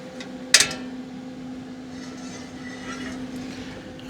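A camping oven's stove burner running at a winter campsite on the shore of a frozen lake, giving a steady low hiss and hum with one sharp click near the start.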